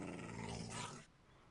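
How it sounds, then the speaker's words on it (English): Pet dog in Minecraft snarling and growling as it attacks mobs, a dense, loud burst of game noise that cuts off abruptly after about a second, leaving quieter background sound. "dog is killing things."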